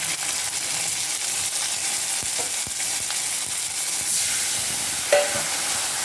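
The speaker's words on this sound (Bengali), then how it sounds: "ওই তেলের মধ্যে ফোড়ন দিয়ে দিলাম আদা রসুন পেঁয়াজ বাটা" Ginger, garlic and onion paste sizzles steadily in hot oil left from frying shol fish, a dense continuous crackle close by with a few sharper spits and a brief stirring clink near the end, no voices.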